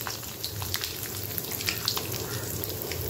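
Mustard seeds, fennel, cinnamon and dried chili sizzle in hot oil for Chettinad keerai kootu, a steady dense crackle with scattered sharp pops, close and continuous with no talking.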